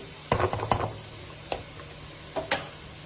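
Mixed vegetables are sautéed in a pan, with a faint background sizzle and a handful of sharp, separate scraping and clinking spoon strokes, clustered early and then spaced out.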